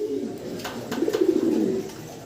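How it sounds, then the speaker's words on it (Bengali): Racing pigeons, including a red checker, give a short, soft cooing call, close and clear, lasting about two seconds. "আমরা খুব চমৎকার একজন রেসার কবুতর দেখতেছি"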